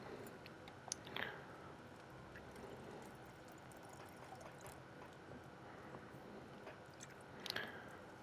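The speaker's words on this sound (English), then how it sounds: "So let's pour the potion." A potion is poured at an alchemy table in the video game Kingdom Come Deliverance 2. A soft, continuous liquid splash runs over a busy background, with a couple of brief clinks near the start and end.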